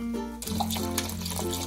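Water poured into a cooking pot while making African beans and rice with chicken stock, a short close splash and fill sound lasting under two seconds with no talk.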